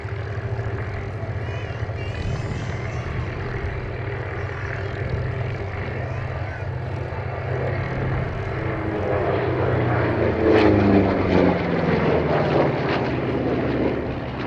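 An A-26C Invader, a Korean War veteran propeller aircraft, flies at Duxford during a Battle of Britain air show, its piston engines droning steadily with a rising, passing roar, heard over ambient crowd noise and distant commentary.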